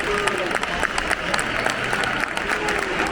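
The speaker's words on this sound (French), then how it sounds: "Les supporters de Malaga qui applaudissent ceux d'Ibiza." Malaga fans in the stands at Estadio de la Rosaleda applaud the visiting Ibiza supporters after a football match, making a steady wash of clapping and crowd noise, with voices mixed in.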